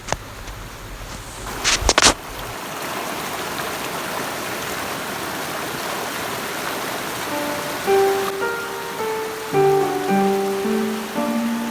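A mountain stream near a village waterfall rushes in a steady, close wash of flowing water, with a brief knock early on and music rising over it near the end.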